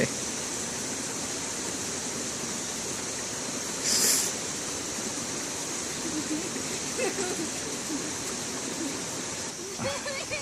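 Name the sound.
wind blowing at Khao Yai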